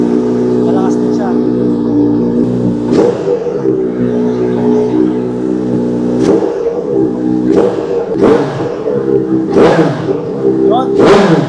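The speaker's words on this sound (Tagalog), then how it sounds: "Sobrang lakas ng tunog ng exhaust." A big bike's loud exhaust revs repeatedly in a garage, sharp throttle blips rising over a rumbling idle, close and powerful, with people talking throughout.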